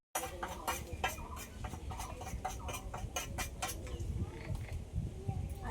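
Cucumber is tossed with an amchur spice mix in a bowl, giving a run of light clinks and scraping taps, close and fairly quiet, with faint background noise.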